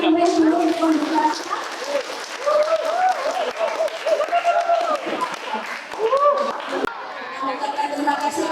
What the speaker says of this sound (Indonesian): boleh beri tepuk tangan yang meriah dulu untuk pendidikan.